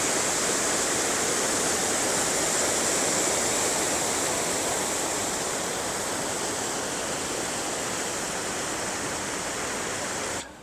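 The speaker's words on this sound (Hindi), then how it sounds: "झील से ये पानी आबशार की सूरत में नीचे गिर रहा है" The Katora waterfall pours water from a mountain lake near a glacier in a steady, loud, unbroken roar. It sounds close, with no voices over it.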